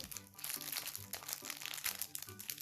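Paper crinkles and rustles close up as a letter to St. Nicholas is drawn out of its envelope, a busy stream of soft crackles with faint bits of talk behind.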